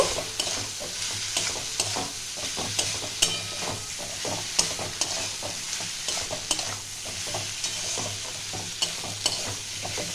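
Okra and potato being stirred in a hot pan for a vegetarian Bengali bhindi aloo posto with green chillies, a steady loud sizzle broken by repeated scraping strokes of the spoon, no voices.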